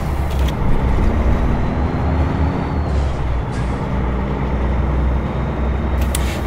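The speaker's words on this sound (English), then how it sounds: "This is a modded truck that has its own sounds" A heavy modded truck engine in American Truck Simulator rumbles steadily and loudly, with a brief air brake hiss and mechanical clatter.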